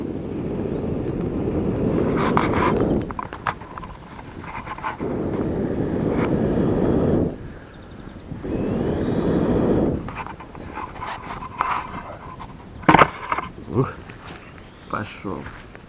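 A person blows on a small hidden campfire outdoors, producing several bursts of breathy, rushing air noise, each lasting a couple of seconds with pauses between, close to the microphone amid light wind, followed by quieter crackles and handling sounds.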